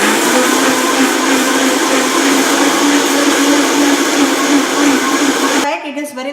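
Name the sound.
blender blending quinoa pizza crust batter on high speed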